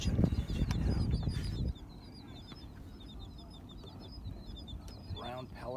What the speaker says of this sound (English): Brown pelicans. A couple black skimmers in there. Some gulls, sandwich terns. All sorts of great bird life that you can hear over there on the sandbar.